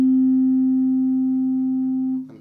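A tuning fork with a weight attached rings a single steady pure tone, clear and close, sustaining evenly for about two seconds before being stopped abruptly with a faint knock.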